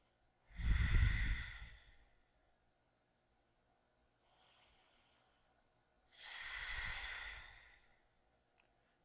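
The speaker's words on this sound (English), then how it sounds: "Deep belly breathing right into that twist." Slow, deep belly breaths during a seated yoga twist: a heavy exhale, a softer breath in, then another long exhale, close and quiet.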